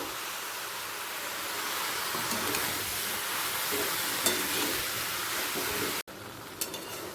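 Soaked chickpeas go into a hot pan with bottle gourd for a Bengali lau dalna and sizzle in a loud, continuous hiss, with faint stirring scrapes. A brief cut and small clinks come near the end.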